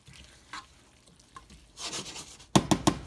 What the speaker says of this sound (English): So we'll just mix in that salt and pepper.